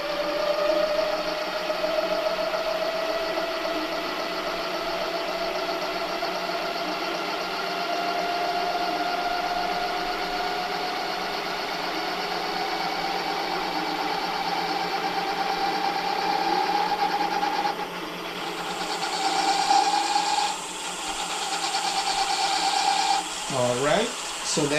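A 1500-watt Bafang e-bike hub motor running steadily at full throttle on mode 1, giving a sustained electric whine with a constant hum, close and continuous, with a slight pitch wobble near the end.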